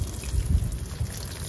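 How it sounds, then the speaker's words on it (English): Water poured onto seed plugs in a winter garden, a brief soft splashing trickle up close. "I'm just going to water the plugs really, really well, so the water is soaked in all the way"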